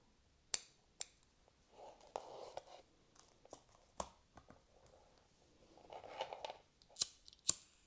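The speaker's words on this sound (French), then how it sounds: "Et on coupe les petits kikis qui dépassent." Small scissors snip thread ends on a micro-macramé choker, several sharp quiet clicks spaced irregularly, with faint handling rustle between cuts.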